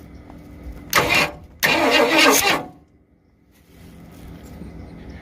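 A 1965 Mustang engine is cranked by a remote starter button in two loud bursts, a short crank and then a longer one of about a second, before it falls back to near silence with a faint hum.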